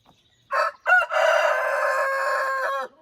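A rooster crows loudly and close by: a short opening call, a brief pause, then one long, sustained cock-a-doodle-doo that trails off.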